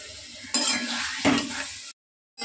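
Water poured into a pan of spiced, fried katla fish head being cooked into chachchari, with a burst of sizzling and clinking of utensils, a second splash and stir, then brief silence before more kitchen clatter.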